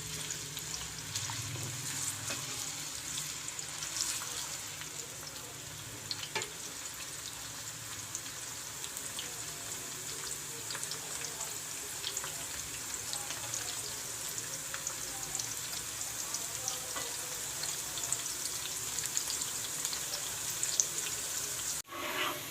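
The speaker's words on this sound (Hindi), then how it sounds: "प्याज को हमने ब्राउन होने तक फ्राई करना है।" Onions fry in hot oil until brown for a mutton keema with peas, a continuous even sizzle and crackle holding steady at moderate level throughout, with no talk.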